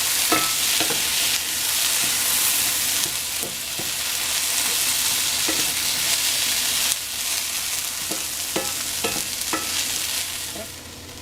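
Potatoes frying in a pan for a breakfast burrito: a loud, steady sizzle fills the whole stretch, with occasional soft scrapes and taps of stirring.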